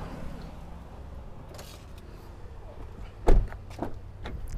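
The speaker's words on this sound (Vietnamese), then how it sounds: "để chiều mở mấy cái cửa ra" A door of a 2020 Toyota Camry 2.5Q opens with a couple of close, dull clunks over low background noise, after a quiet stretch.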